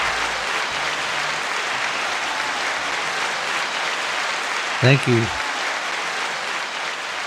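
Crowd applause at a podcast taping, a steady wash of clapping that carries on through the whole stretch while someone briefly speaks over it near the end.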